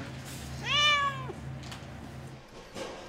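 A cat meows once in the cat wing of an airport animal facility, a clear, close, drawn-out call over a steady low hum, followed by faint rustling and soft background noise.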